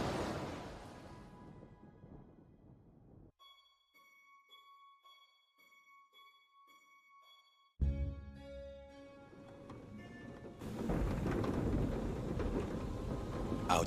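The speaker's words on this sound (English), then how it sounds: "Outside, the storm raged." Thunderstorm with rain in the video game A Fisherman's Tale: a rumbling, rain-washed wash of noise, then a quieter stretch with soft tonal music, before a loud sudden crack and roll of thunder over heavy, steady rain.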